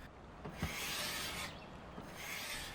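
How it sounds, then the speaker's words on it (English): Close, rough scraping and sanding on an old wooden dresser in long strokes, a gritty rasp rising and easing in a steady back-and-forth rhythm. "There was a lot more scraping and sanding to do over the next several hours"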